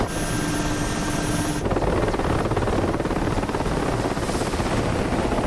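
Helicopter landing in DCS during a 1982 Soviet-Afghan War mission, a close, loud, steady rotor chop and turbine roar that shifts character partway through and holds without talk.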